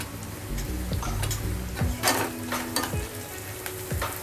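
Garlic and ginger sizzle in hot oil in a home kitchen, a close, steady crackle punctuated by scraping stirs of a spoon against the pan and a few sharper clinks.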